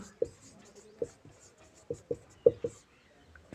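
A pen taps and scratches on paper in short, irregular strokes as an application letter is written out by hand. Someone speaks softly at times over the writing.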